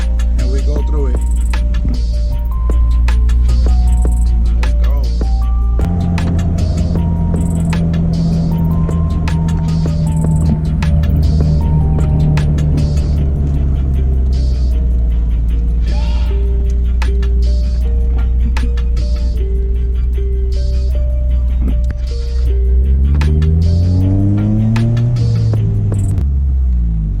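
A 2000 Honda Civic Si EM1 with VTEC makes a second gear pull, its engine a loud, sustained droning roar with strong harmonic tones that climb sharply in pitch near the end.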